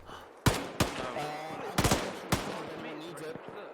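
Gunfire in the military shooter game Arma 3: several sharp, loud shots at irregular intervals, some in quick pairs, over a steady background rumble with faint talk.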